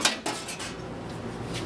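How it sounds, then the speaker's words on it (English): Dishwasher-safe bun tray being pulled from an SCT4000E commercial conveyor toaster, giving a couple of sharp metallic clatters at the start, then a steady low rattle of metal parts, with no voices. "Next, you want to remove your dishwasher safe bun tray."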